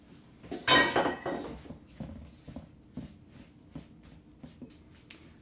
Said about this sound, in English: And then I'm going to mix this up.